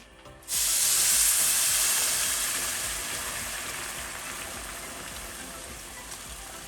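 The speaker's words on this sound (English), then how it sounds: "Now I'm gonna add in boiling hot water." A sudden loud sizzling hiss bursts in as boiling water is poured onto toasting rice in a hot pot, then settles into a steady, slowly fading steamy hiss.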